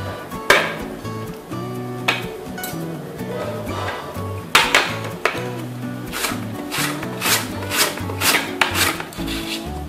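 A potato is drawn back and forth over a small grater-style slicer to make thin chips, giving repeated rasping, scraping strokes with faint clinks against a steady background hum.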